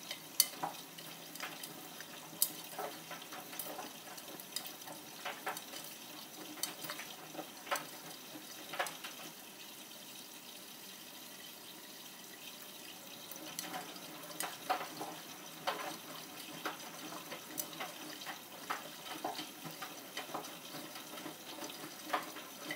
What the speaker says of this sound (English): Now we're actually filling to the desired water level.